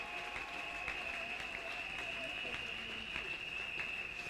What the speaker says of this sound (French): On peut applaudir pour le Seigneur.